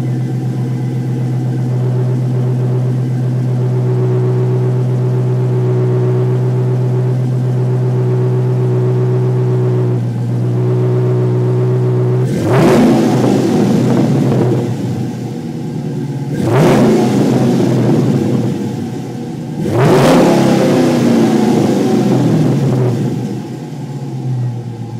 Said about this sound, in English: I'm gonna do a few revs here, get the idea.